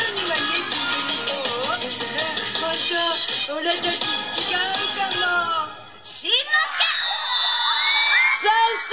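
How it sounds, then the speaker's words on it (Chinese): Second-grade class audience whooping and cheering after a children's Crayon Shin-chan dance performance, a lively crowd of young voices shouting near and loud, with a brief dip before the cheering swells again. "掌声鼓励"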